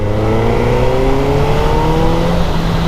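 A stock street fighter motorcycle engine revs loud and close, its tone climbing smoothly in one sustained rise over a few seconds, with no talking.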